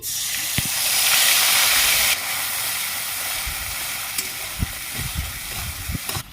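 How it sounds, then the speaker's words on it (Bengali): A spiced mix of mustard, poppy seed and yogurt, added to hot oil tempered with nigella seeds for a Bengali curd fish dish, hisses and steams loudly at first, then settles into a steady sizzle with a few light clinks. "তেলের মধ্যে কালো জিরে ফোড়ন দিয়ে দিচ্ছি সর্ষে পোস্ত দই সব মিশিয়ে নিয়েছি তেলের মধ্যে দিয়ে দিচ্ছি"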